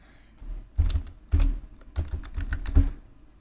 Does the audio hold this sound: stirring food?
no